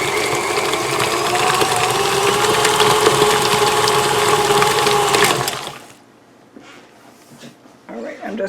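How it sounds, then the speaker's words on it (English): An electric hand mixer beats a block of cream cheese with a loud, steady motor whir for about five seconds, then cuts off, leaving only faint handling sounds. "The beater takes no time at all to mix up that block of cream cheese."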